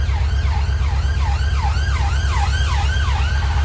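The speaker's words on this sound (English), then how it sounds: "Oh, this time it's an ambulance." An ambulance siren in London wails in a steady up-and-down yelp, loud and close, over a low engine rumble with no talking.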